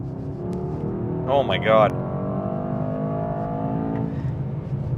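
A 2024 Mercedes S63 AMG pulling hard in third gear near 4,000 RPM, a steady loud engine drone heard from inside the cabin, with a person exclaiming briefly over it.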